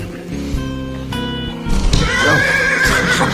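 A horse whinnies loudly and shrilly near the end, preceded by tonal squeals and shuffling, with background noise throughout.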